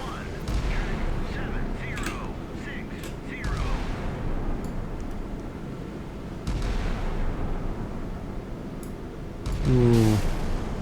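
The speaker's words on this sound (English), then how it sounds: "Okay, missile away." A Harpoon anti-ship missile launches in the naval combat game Sea Power, a loud rushing blast that rises near the end over a steady background rumble.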